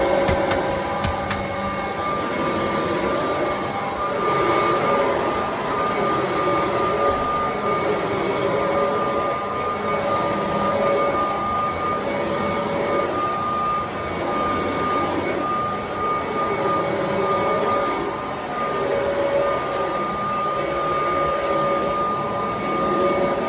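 A 1973 Kirby Classic Omega vacuum cleaner runs steadily and loudly throughout, a constant motor whine and airflow roar with a gently wavering pitch, alone with no talk.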